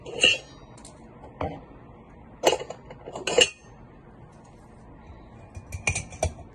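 Ice cubes drop into a cocktail glass in a few separate, sharp clinks spread over several seconds, close by and fairly quiet between the hits.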